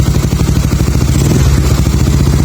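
A Yamaha Mio Sporty scooter with a battery that keeps going flat despite two replaced regulators starts up close by and settles into a rhythmic, chugging idle, with no voices heard.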